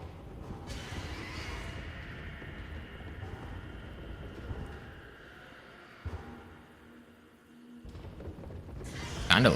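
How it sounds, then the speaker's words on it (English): Horse galloping and neighing in the game Mouthwashing: a loud whinny over a rumbling, clip-clopping gallop and windy background, ending in another sharp neigh. "It does sound like a horse galloping"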